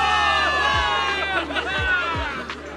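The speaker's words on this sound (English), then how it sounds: "Give it up for yourselves, soldiers! Cheer for victory!" A crowd of soldiers cheers in a video game, a steady swell of massed shouting and whooping with brief sharp sweeping effects cutting through.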